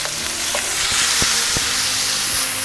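Shrimp searing in a smoking-hot pan give off a loud, steady frying sizzle, with a few sharp taps and clicks as the pieces are moved around. No one speaks.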